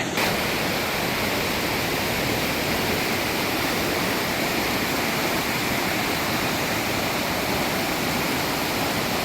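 Forest stream water flows and rushes steadily, a loud, dense, unbroken wash close by, with no voices over it.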